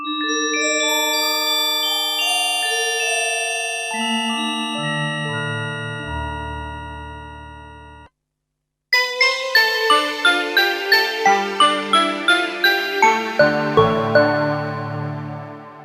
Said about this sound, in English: make these bell chimey type sounds, which are really quite attractive